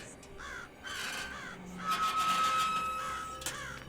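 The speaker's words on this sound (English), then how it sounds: "Oh my god, there are a lot of crows out tonight." Crows caw at night in a cemetery, giving several loud, harsh calls in quick succession against a steady background hiss, with a thin high whine running under part of it.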